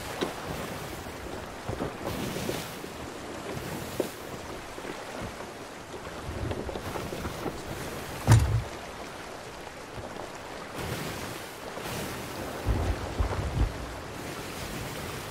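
Stormy wind and surging ocean waves roar around a sailing ship in the Sea of Thieves game, a steady rushing wash with swells that rise and fall, alone with no talk.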